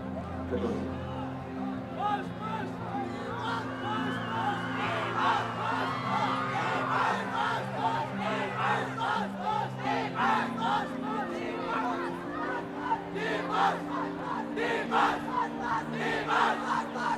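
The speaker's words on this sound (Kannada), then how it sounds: "ಎಲ್ಲರ ಪ್ರೀತಿಯ ಚಪ್ಪಾಳೆ" Big crowd at a Nadahabba Dussehra 2025 stage event, cheering, whooping and clapping loudly in a sustained roar for the full stretch, dense and close, with babble of voices mixed throughout.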